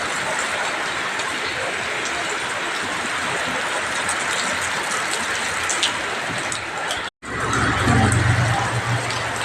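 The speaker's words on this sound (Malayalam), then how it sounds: "മഴയുണ്ട്, ഒന്നും നടക്കണില്ല." Steady rain pours down in a continuous, even hiss that fills the scene, broken by one brief cutout before a low hum sits underneath the downpour.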